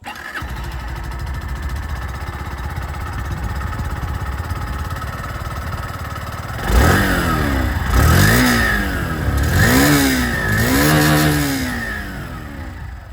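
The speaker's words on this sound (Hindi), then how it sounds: "और अब मैं आप लोगों को यहाँ पर जो होंडा शाइन DX है उसके बारे में सुना दूं आवाज" A 2025 Honda Shine 100 DX 100cc motorcycle idles with a steady low putter, then revs hard several times in rising and falling bursts, close and loud.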